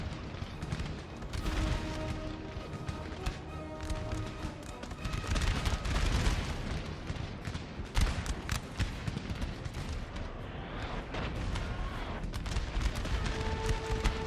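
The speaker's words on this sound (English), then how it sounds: "I think that's my cannon firing in." Cannons boom amid crackling small-arms volleys in a Napoleon: Total War battle, with sharp gunfire bursts and heavy thuds scattered densely throughout, some near and loud, others distant, over a constant battlefield din.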